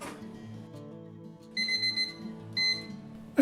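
A kitchen timer alarm goes off for a blind-baked pie crust, two bright bursts of rapid beeping over a low droning background, close and loud, with no talking.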